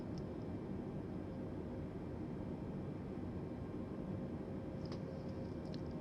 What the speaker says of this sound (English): Plane slowly descending as we're turning.